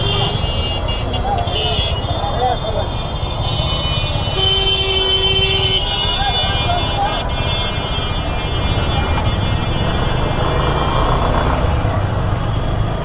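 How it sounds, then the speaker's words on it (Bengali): Heavy traffic jam on a busy Dhaka road near Mirpur: a dense, constant roar of engines with repeated car and bus horn blasts cutting through, loud and close. "এখানে প্রচুর পরিমাণে জ্যাম,"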